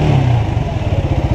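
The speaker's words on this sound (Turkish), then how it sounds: "Sonunda motorumun açıldığını hissediyorum ya." A motorcycle engine revs hard up close, a loud throbbing roar that settles into rapid rhythmic pulses, with no voices.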